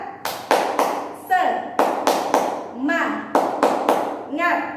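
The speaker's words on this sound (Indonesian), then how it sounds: "Coba Bunda ulangi sekali lagi ya, biar anak soleh-soleha lebih semangat lagi. 1, 2, 3. Tepuk semangat" Rhythmic group claps from children in an Indonesian classroom spirit cheer, sharp clustered claps in a patterned beat with voices chanting between them.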